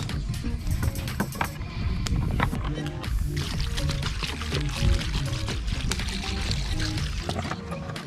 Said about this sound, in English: Adding some vinegar just to wash off the meat.